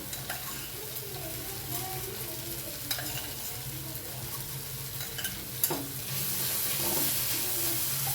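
Spice masala with sugar being sautéed in a pan until the oil separates, a continuous close sizzle with steady stirring and occasional spoon scrapes, the frying hiss growing louder toward the end.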